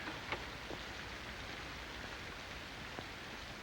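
Soft, steady rain in a 1947 film noir scene, a faint even hiss of falling drops with a few isolated ticks and taps of droplets on a surface.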